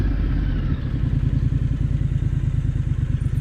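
A 2020 Triumph Scrambler 900 motorcycle rides along with a loud, close, low engine rumble and a fast, even pulsing beat that holds steady throughout.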